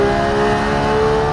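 A 991-generation Porsche 911 GT3 engine screams as it revs up to 9,000 RPM, a loud, sustained high-pitched wail close by with no talking.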